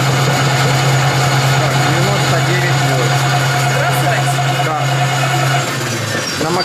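A 1000W 60V electric hub motor, driven at high speed through a 1:3 reduction gear as a generator, makes a steady loud mechanical whine and hum that holds constant before easing slightly near the end, with a voice faintly under it.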